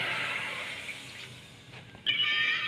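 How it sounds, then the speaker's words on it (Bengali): Water pours into a pan on the stove while fish curry cooks: a soft steady stream that fades, then a sudden louder rush of pouring near the end. "জল দিয়ে দিই"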